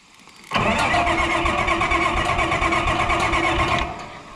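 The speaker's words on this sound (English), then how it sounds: "We're gonna start it up and see what we get." An Oliver tractor engine cranks and catches abruptly, then runs loud and close at a steady rumble for about three seconds before easing down to a quieter idle.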